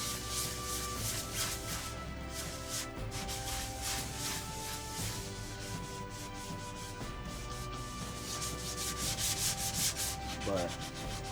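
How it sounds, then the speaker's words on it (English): Wet sanding primer on the fuselage of a Top Flite P40E Warhawk model airplane, a steady close rubbing and scraping texture continuing throughout at low level with no talking. "we're just gonna go ahead and wet sand that just like this"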